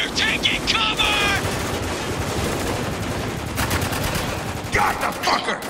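Gunfire in the shooter game Spec Ops: The Line: rapid automatic bursts and scattered shots, loud and near, with ringing shell and ricochet tones, continuing over several seconds.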